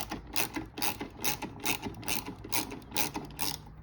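A ratchet clicks steadily while turning a long 8mm headlight bolt on a Dodge Challenger Hellcat, with repeated bursts of fast pawl ticks in an even back-and-forth rhythm, close up, with no talking.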